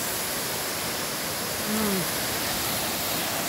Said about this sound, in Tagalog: Ito yung sinasabi nilang deep falls.